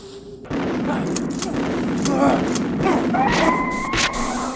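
Shotgun blasts from Resident Evil 1 boom out after a brief quiet start, followed by game tones and a raised voice over a steady low rumble.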